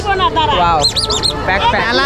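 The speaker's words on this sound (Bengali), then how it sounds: "সেই পঞ্চাশ টাকায় হাঁস" Ducks for sale at a Loknath puja fair in Raiganj give a quick burst of sharp, nasal honking calls amid crowd chatter and a voice talking nearby.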